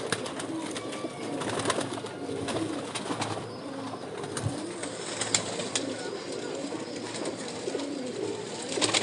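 Pigeons cooing in a breeding loft, soft repeated coos and wing rustles close by over a steady background hum, with a few scattered sharper flutters and no talk.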